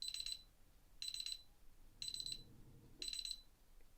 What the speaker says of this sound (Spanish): Vamos a escuchar que son 10 segundos y se conecta la alarma